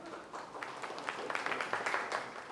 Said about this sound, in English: And once again, clap for all of you.